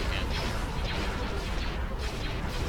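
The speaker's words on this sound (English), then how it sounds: "Yep, and then we're about to have the turbo lasers again." Turbo laser fire in the Star Wars: Empire at War space battle game, a dense, continuous barrage of loud crashing blasts and booming impacts layered over a rumbling battle background.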